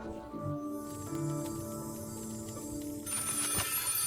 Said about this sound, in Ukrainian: Хтось дзвонить до нас, чи що?